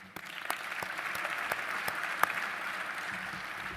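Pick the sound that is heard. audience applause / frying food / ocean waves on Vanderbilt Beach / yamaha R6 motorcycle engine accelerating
audience applause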